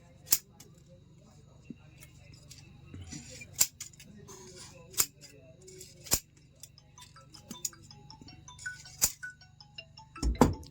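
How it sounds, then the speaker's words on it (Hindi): Scissors cut paper during a ceiling fan winding repair, giving sharp, separate snips spaced a second or so apart over a low steady hum, close and clear, with faint handling noise. "सभी पेपर को काट लेना है।"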